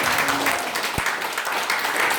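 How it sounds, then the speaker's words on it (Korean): Loud, continuous clapping from a church congregation during a Sunday worship service, a dense steady wash of applause filling the space with one sharper thump near the middle. "박수를 지금 세게 치시길 바랍니다."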